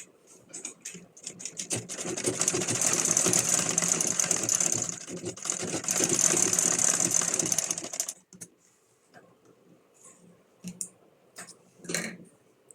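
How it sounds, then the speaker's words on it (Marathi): Sewing machine stitching the bottom seam of a bag made from an old jeans skirt, a close, continuous rapid whirring run of about six seconds, then stopping, followed by a few scattered clicks and handling noises. "नंतर बॉटमची आपल्याला शिलाई करून घ्यायची आहे."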